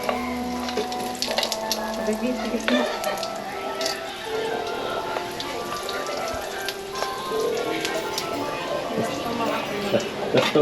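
Hotdogs and fishballs frying in oil, a steady crackling sizzle with popping spatter running throughout, heard close up under frequent talking and kitchen clatter.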